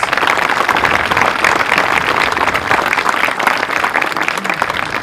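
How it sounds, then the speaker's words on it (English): A crowd at a groundbreaking ceremony for Veterans Memorial Early College High School in Brownsville, Texas, bursts into loud, sustained applause, a thick, unbroken roar of clapping hands close by. "So let's give a round of applause to everybody who has anything to do with this."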